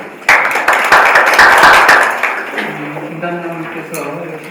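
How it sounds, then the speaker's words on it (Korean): Audience applause at a policy forum on sustainable livestock farming and the environment, a dense burst of clapping that swells quickly, holds for about two seconds and then fades as a voice begins to speak. "예, 박수."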